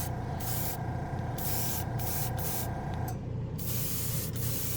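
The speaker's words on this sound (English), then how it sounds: "I guess I could have just brushed this on anyway, but I like to airbrush" Airbrush spraying Green Stuff World Maxx Darth black paint, a close, loud hiss in several bursts of about a second each with short gaps, the last burst trailing off.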